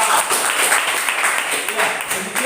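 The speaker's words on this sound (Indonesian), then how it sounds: "Tepuk tangan untuk kita semua." Classroom applause from student groups, a steady patter of clapping hands at close range lasting a couple of seconds, with voices mixed in underneath.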